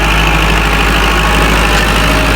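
A Kubota L5018 tractor engine labors in first gear while pushing a full bucket of soil, a loud, steady diesel drone heard close up without any voices.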